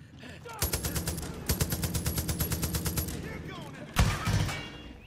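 Rapid automatic gunfire in Far Cry 5 rattles off in two long bursts, then a heavier blast and a shorter volley follow. The shots are loud and close.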